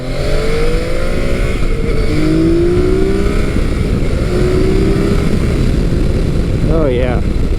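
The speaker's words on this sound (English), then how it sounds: "I am currently riding Yamaha's 2015 FJ-09" A 2015 Yamaha FJ-09 motorcycle out on the road, its engine drone and wind noise steady and loud throughout, with pitch rising and falling as it shifts, and a voice speaking over it.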